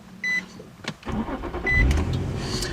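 A 2005 Infiniti G35x with its 3.5 V6 starting on the key: a short chime beeps, then a whirring crank catches into a steady, close idle rumble, with another beep partway through.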